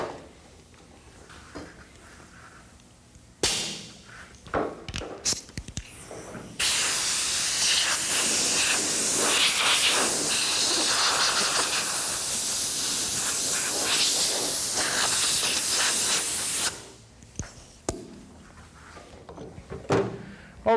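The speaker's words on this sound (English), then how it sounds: "Now we're going to take the air blower, we're going to blow this off a little bit" Compressed-air blower blasting dust off an epoxy repair on a Corvette's fiberglass body, a loud steady hiss lasting about ten seconds, framed by brief shorter bursts and quiet handling noise before and after.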